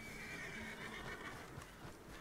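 Horse neighing in Red Dead Redemption 2, a drawn-out whinny heard close over steady game ambience and hoof noise, with no talking.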